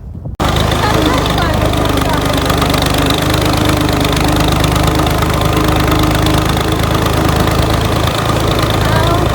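A diesel tractor engine runs steadily and loudly throughout, with a constant chugging knock and broadband mechanical noise.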